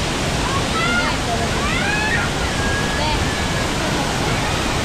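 Aliwagwag Falls in Cateel, Davao Oriental, rushing as a loud, steady roar of water close by, with people's voices calling faintly over it.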